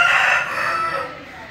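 A country rooster of a fighting-cock breed, kept on a terrace, crows once, loud and close, its drawn-out call trailing off gradually over more than a second with no talk over it.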